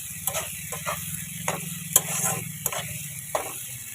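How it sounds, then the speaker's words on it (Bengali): Sliced onion and three green chilies fry together in a pan, a steady sizzle broken by regular scraping spatula strokes about every half second, close and clear. "এই কাঁচা লঙ্কা পেঁয়াজ একসাথে ভাজা ভাজা করে নেব"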